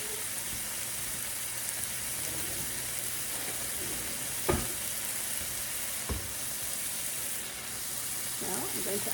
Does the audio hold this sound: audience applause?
no